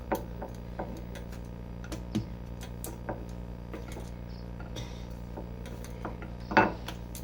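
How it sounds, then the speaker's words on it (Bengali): Flatbread dough rolled out piece by piece gives soft knocks and taps of the rolling pin on the board, irregular and close, over a low steady background hum. "এইভাবে সব একটা একটা করে আমি বেলে নিচ্ছি একই মাপের সব বেলে নিলাম"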